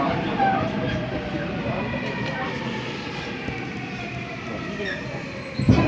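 A Seoul Metro Line 7 subway train, set 707 bound for Dobongsan, runs between Onsu and Jangseungbaegi with a loud, steady rumble and wheel noise, heard from inside the car, with a faint announcement underneath.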